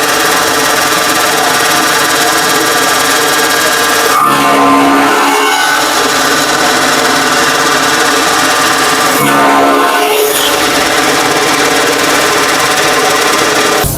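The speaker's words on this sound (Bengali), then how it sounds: "এখনই আমরা এলোমেলো খড় কেটে সর্বপ্রথম দেখাবো" A chaff cutter machine cutting loose straw runs with a loud, steady mechanical clatter and drone, swelling briefly twice as material passes through the blades.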